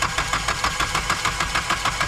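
Nissan SR20DET engine cranking on the starter during a compression test with the throttle body open, a steady rhythmic chug of evenly spaced compression pulses, loud and close, with no talk.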